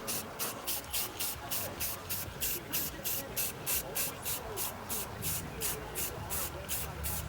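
Spray gun laying clear coat on a BMW E46 M3 roof rail moulding, repeated short hissing bursts in a steady rhythm, about a dozen passes, close and fairly quiet.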